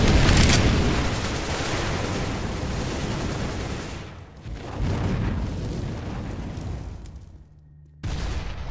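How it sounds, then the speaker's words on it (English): A grenade blasts in Counter-Strike: Global Offensive on the Nuke map, opening with a loud broadband boom that rolls into a long, rumbling wash of noise with a second swell midway before cutting off. "grenade out."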